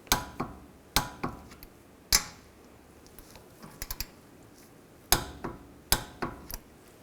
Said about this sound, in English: Now I'm going to torque these bolts to 48 foot-pounds.